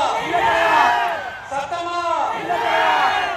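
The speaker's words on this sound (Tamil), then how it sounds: "மக்களோட சத்தம் கேக்குதா?" A large crowd at a TVK political rally in Madurai cheers and shouts together in loud, surging waves, with chanting voices rising and falling close by.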